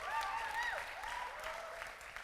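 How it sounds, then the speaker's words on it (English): An audience applauds a poet at a youth poetry slam event, a steady, dense clapping throughout with a faint cheer or whistle rising over it. "Keep it going for the poet, Jessica Allen from Tampa Bay, Florida."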